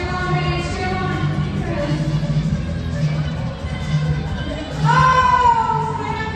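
A crowd at a basketball game's mini dunk contest cheers and shouts steadily throughout, with a louder swell near the end as a child goes for the dunk.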